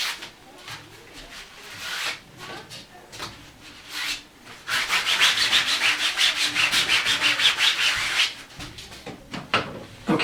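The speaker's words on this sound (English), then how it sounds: "I'm just going to dry off my canvas because there's probably still some powder residue from sanding this gesso." A cloth is wiped across a sanded gesso canvas to clear off powder residue, producing a close, dry rubbing and scuffing that builds to a brisker, louder stretch midway before easing back to lighter strokes.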